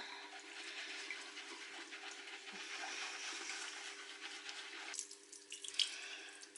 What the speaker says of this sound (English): Give it a little swirl in here, just keep rinsing it.